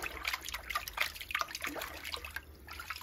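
Robot vacuum main brush, clogged with thick lint, rinsed under running tap water: close splashing and trickling with irregular drips and spatters, moderately loud and alone.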